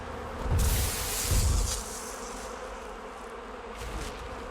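Dense droning buzz like a swarm of bees fills the shroom swamp in Ark Survival on Crystal Isles, loud and continuous as if right at the ear, with low rumbling thumps early on.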